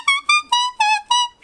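A gum leaf plucked from a tree and blown as a wind instrument gives five reedy, buzzing whistle notes in a short bouncing phrase, close and clear with no talk.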